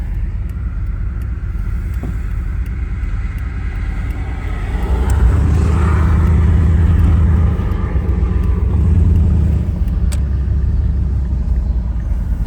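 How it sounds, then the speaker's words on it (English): A vehicle approaches and passes by near a parked Silverado, a low rumbling swell that builds midway and then fades, over a steady background hum. "Vehicle coming."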